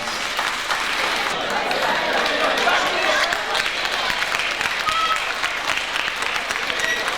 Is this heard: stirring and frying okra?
no